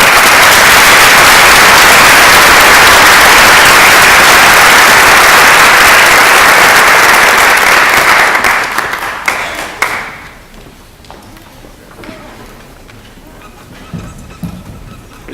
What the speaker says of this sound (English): Will you stand up for a little round of applause?